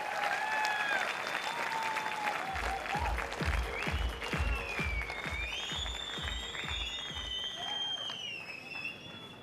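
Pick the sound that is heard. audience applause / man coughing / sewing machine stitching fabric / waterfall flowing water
audience applause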